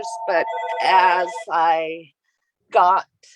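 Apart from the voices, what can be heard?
telephone ringing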